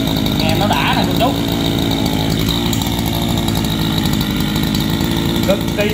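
A Japanese-import Mitsu TL231 grass trimmer engine runs steadily and loudly up close, a continuous buzzing drone throughout, with a voice talking over it.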